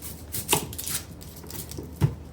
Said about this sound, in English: I'm just gonna chop this up big pieces so the meat can lay on top of it too.